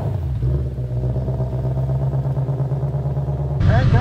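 A 2020 Ford Mustang Shelby GT500 engine idles with a steady low rumble, then revs up sharply near the end, the pitch climbing as it roars louder.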